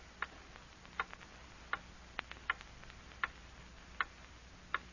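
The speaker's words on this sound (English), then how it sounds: "Hear that clock?" A clock ticks steadily at a slow, even rhythm in a radio broadcast, crisp and alone against a faint hiss of background noise.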